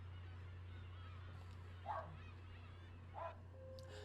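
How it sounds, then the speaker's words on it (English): A dog gives two short barks, a couple of seconds apart, muffled and somewhat distant indoors over a low steady hum. "I don't know why my dog has chosen this moment to be so very loud."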